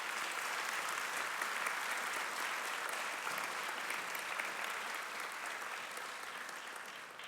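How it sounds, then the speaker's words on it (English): Audience at a community college legislative forum applauding the legislators, a dense sustained clapping that stays steady and loud before tapering slightly at the end, with no talk over it. "Please give a round of applause for each of the legislators."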